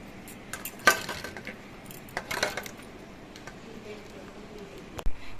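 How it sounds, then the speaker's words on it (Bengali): Spice paste for a boal fish dish being tipped into a bowl, heard as a few scattered clinks and knocks of metal and crockery over a quiet kitchen background. "এবার এটা একটা বাটির মধ্যে আমি ঢেলে নিচ্ছি"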